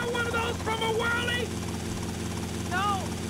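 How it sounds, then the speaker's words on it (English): A helicopter in the GTA Vice City video game produces a steady droning rotor hum beneath a voice. "There's a helicopter."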